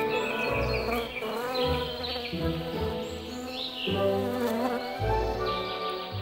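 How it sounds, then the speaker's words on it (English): Honeybees swarming over spring fields make a steady, close, droning buzz. Overlapping wingbeat tones rise and fall as insects pass near, and the sound stays continuous for the whole stretch. "honeybees emerge and begin swarming about the fields."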